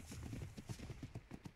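Horse hooves galloping in the video game ARK, a steady rapid clip-clop rhythm of repeated thudding beats, moderately close and fairly quiet throughout the short stretch with no talk over it.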